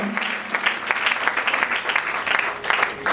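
A church congregation at evening prayer applauds in praise, steady dense clapping from many hands filling the room, with faint voices mixed in.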